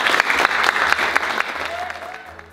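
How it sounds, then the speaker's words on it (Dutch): Loud, close applause from a crowd for students at an exhibition opening, brisk dense clapping that gradually fades over a couple of seconds. "Mag ik een heel hartelijk applaus voor deze studenten?"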